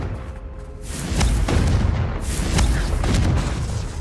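A fire-casting Confringo spell in Hogwarts Legacy bursts into a loud, booming explosion, followed by rumbling blasts and crackling debris over a dense game soundscape, with no voices.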